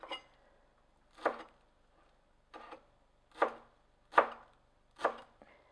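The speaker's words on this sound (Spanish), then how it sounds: "vamos a picar nuestro cilantro." A knife chops fresh cilantro on a cutting board in a home kitchen, six sharp separate chops spaced about a second apart, close and clear against near silence.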